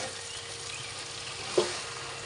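Chili powder stirred into chalta pickle frying in a pan, a soft continuous sizzle with one brief stirring knock near the end; no talking.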